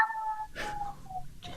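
A cat meows in a few short, tonal calls, close and fairly clear, with brief gaps between them and no talking.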